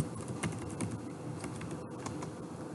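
Quick, light keystrokes on a computer keyboard at a command prompt, a steady patter of close clicks over a soft room hum.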